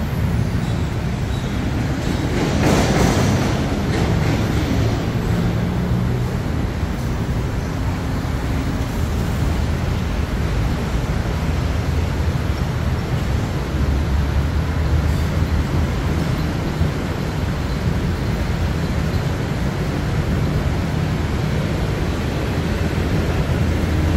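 Bangkok Airport Rail Link train heading from Makkasan toward Suvarnabhumi Airport, a steady broadband rumble and rush of wheels and motion heard from inside, with one brief louder swell early on and no talk.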